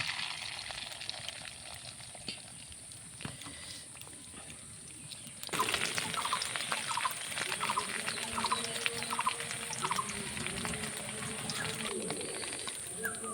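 Beaten egg batter hits hot mustard oil in a pan, a quiet background hiss suddenly swelling into a steady, crackling sizzle that continues alone, with faint bird calls in the distance.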